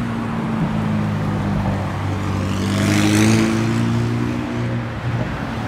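A car with a non-stock exhaust drones past at a beach park-off, its low engine note swelling as it nears and then fading, under steady background noise and with no talk.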